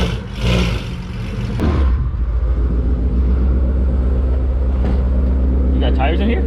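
A car engine rumbles and revs as it pulls out, a low steady drone building under nearby voices talking.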